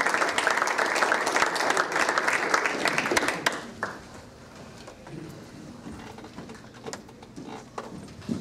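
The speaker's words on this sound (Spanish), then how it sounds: "Vamos a recibir, por favor, con aplauso fuerte, a Homero Arami." An audience at a history lecture on haciendas claps loudly to welcome a speaker, and the applause tapers off after a few seconds, leaving scattered claps and faint room noise.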